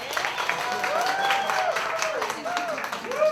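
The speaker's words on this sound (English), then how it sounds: "Clap hands for yourself." A group claps during a theatre staged reading, with steady, close applause running under a cheering, sing-song voice and other chatter throughout.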